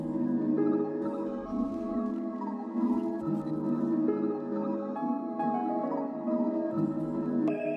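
A stuttering effects preset pattern in FL Studio playing inside a full beat, with a steady layered melodic loop and repeated rhythmic chops running continuously at a loud, even level, with no voices.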